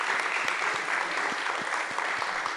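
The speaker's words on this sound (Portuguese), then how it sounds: "essa merece palmas mesmo" Brief, steady burst of audience applause during a live debate event, dense clapping filling the whole moment at a moderate level.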